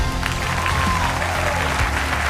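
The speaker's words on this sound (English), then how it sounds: "big round of applause for beautiful Ray" A studio audience applauds warmly for Ray Meagher at a televised tribute, with dense, steady clapping filling the whole moment.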